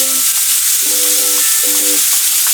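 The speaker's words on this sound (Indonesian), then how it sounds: "tambahkan daging ayam ke dalam wajan penggorengan yang telah berisi bawang putih, daun bawang, dan cabai merah untuk ditumis" Chicken stir-fries in a wok with garlic, scallion and red chili, a loud, continuous sizzle with repeated stirring scrapes, steady throughout, with no voices.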